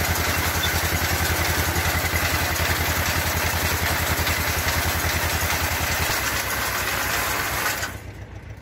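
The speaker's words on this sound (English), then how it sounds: "The process starts with pulling dry straw into the baler using 16 rotating rollers" Round baler pulling in and compacting dry straw with 16 rotating rollers, giving a loud, steady mechanical drone with rhythmic clattering throughout, then stopping abruptly near the end.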